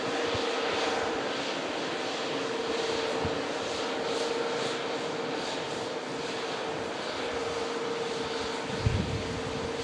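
Virgin Atlantic Airbus A350 taxiing in at Manchester Airport after a long-haul flight from Orlando, giving a steady, broad jet-engine roar and whine at moderate distance for the whole stretch, with a brief knock near the end and no talk.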